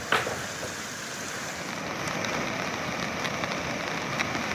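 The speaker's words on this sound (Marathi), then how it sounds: "लातूरमध्ये पुन्हा मुसळधार पाऊस बरसतोय" Steady, dense hiss of heavy rain pouring continuously in Latur, with faint wind noise and occasional louder drips, no voices.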